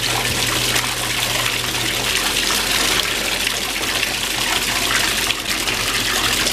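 Water pours steadily for several seconds, a continuous splashing rush with no break and no voices.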